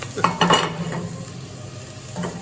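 Butter and onion sizzling in a hot pot while making pâté de foie gras, a steady close frying hiss with a few stirring scrapes near the start and end.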